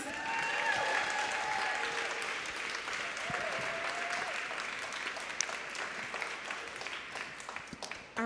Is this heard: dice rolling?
no